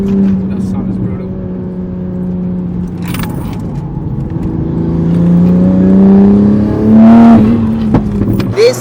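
A 700+ hp single-turbo MKV Toyota Supra engine revs loudly nearby, its drone climbing in pitch toward a peak near the end, with voices talking over it.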